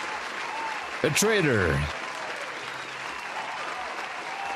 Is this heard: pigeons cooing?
no